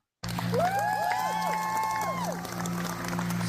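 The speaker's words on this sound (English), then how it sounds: "That's the kind of applause I'm used to." A studio audience greets comedy podcast guest Steve Mcdonald with loud, steady applause and cheering, with sharp whistles rising above it, kicking in abruptly and holding for a few seconds over a low hum.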